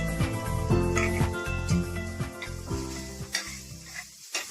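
Garlic sizzles and is tossed in a hot frying pan while making a grilled chilli cheese sandwich, a steady close crackle with stir sounds under prominent background music.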